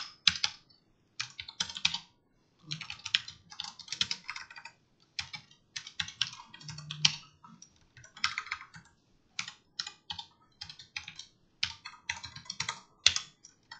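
Rapid bursts of typing on a computer keyboard as Java loop code is entered, crisp clacking keystrokes in irregular clusters separated by short pauses, close and clear with no talking.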